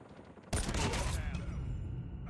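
Sudden burst of rapid gunfire in a Call of Duty match on the Diesel map during a Capture ABC mode, loud and dense after a quiet start, then sustained clattering shots and echoes.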